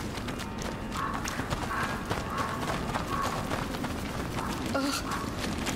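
A horse's hooves clop in a steady, regular rhythm in the video game A Plague Tale: Innocence, moderately close, with a faint voice murmuring underneath.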